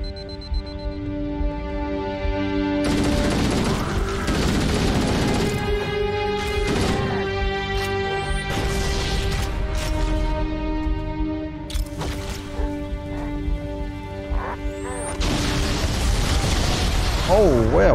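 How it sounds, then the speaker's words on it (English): A chain of grenade explosions in Halo: Combat Evolved, a rapid series of loud booms and crashing blasts going off one after another, layered over game music and ambient effects with no talk. "That was a chain explosion and a half."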